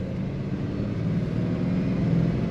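A 1950 Ford Custom four-door sedan drives and corners, its engine and road rumble a steady low drone heard from inside the cabin, with no talking.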